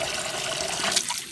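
Water rushes steadily from a tap into a container to soak a beryllium hammer for a handle fix, a loud, continuous pour close to the microphone that tapers slightly at the end.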